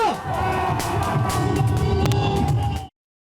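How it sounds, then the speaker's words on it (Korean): Supporters of Park Geun-hye cheer and shout at a rally, a loud continuous crowd roar with whoops and babble that cuts off suddenly. "여러분 크게 함성 질러주시기 바랍니다"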